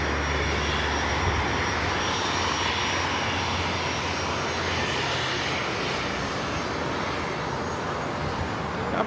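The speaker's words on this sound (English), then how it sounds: "Just had the British Airways 777-300ER coming in from London Heathrow" A British Airways Boeing 777-300ER jet arriving from London Heathrow lands at LAX, its engines a loud, continuous roar that fills the air from start to finish.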